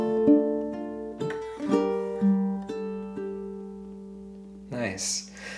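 Ukulele plucking the Hanukkah, Oh Hanukkah melody, played twice in a row, with bright ringing notes and sustained chords decaying between plucks, ending with a brief louder strum.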